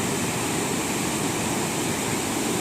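Close, steady roar of the waterfall at Bhedaghat beside the river, a dense broadband rush of falling water that holds constant throughout with no voices.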